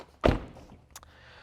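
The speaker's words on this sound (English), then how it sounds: "Shut the door, the window cranks back up." A single solid thunk of a 2014 Nissan 370Z Coupe Touring door shutting, fairly close, followed by a faint click and quiet background.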